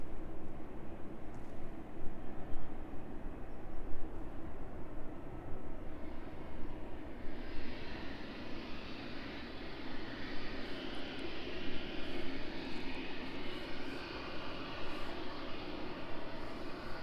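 A Boeing 777 freighter inbound from Cincinnati lands at East Midlands Airport, its steady, loud jet-engine roar filling the air and swelling slightly brighter partway through, with no voices.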